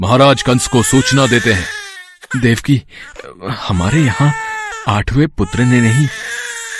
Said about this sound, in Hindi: ये तो बच्चे के रोने की आवाज है।